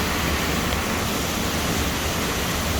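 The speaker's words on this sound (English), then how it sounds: "here's the waterfall" Banias Waterfall roars as a constant, dense rush of falling water, steady and broadband with no breaks, heard close and alone without voices.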